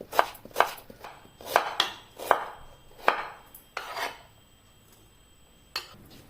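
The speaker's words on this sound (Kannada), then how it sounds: "ನೋಡಿ, ಬೀಟ್ರೋಟನ್ನೆಲ್ಲ ಈ ರೀತಿ ಕಟ್ ಮಾಡಿಕೊಂಡಿದ್ದೇನೆ." Beetroot being chopped into small, thin pieces with a knife in a home kitchen: a run of crisp, evenly spaced cuts close by, about nine in six seconds, with a short pause before a last stroke.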